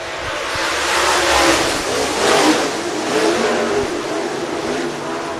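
Race cars roaring as they accelerate off the green flag at Cherokee Speedway, Gaffney, South Carolina, a loud, sustained blend of engines swelling and surging together.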